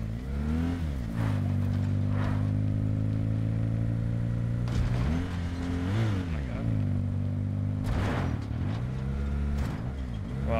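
A video game car engine drones steadily and loud, its pitch rising and falling with repeated revving surges through about ten seconds, with bursts of clatter around the middle and near the end.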